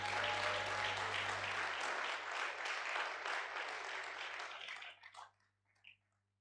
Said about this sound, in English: They also deserve a round of applause.